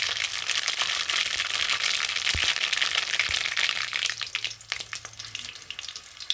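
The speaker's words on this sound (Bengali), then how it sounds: "তো আমি একটা কাঁচা লঙ্কা ফোড়ন দেব, আর দেব সর্ষে। তো সর্ষেটা তো অনেক ফুটবে বন্ধুরা," Mustard seeds and a green chili spluttering in hot oil, a loud, dense crackling sizzle with rapid popping that thins into scattered sharper pops toward the end, with no talking.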